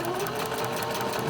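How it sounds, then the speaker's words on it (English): A domestic sewing machine, not a serger, stitches clear elastic butted against fabric: a close, rapid, steady mechanical whir that runs without a break from start to finish. "I'm not using my serger, just using my sewing machine, okay?"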